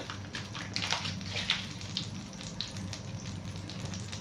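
Butter melting and sizzling in a kadai, a soft, fairly quiet crackle with scattered pops over a steady low hiss.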